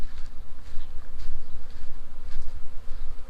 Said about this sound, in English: Check this bee swarm out